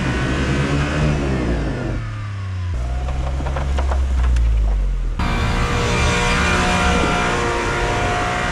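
A kei truck's engine drives and revs on a snowy homestead road, loud and close, its pitch climbing and dropping through several gear changes with a sudden shift partway.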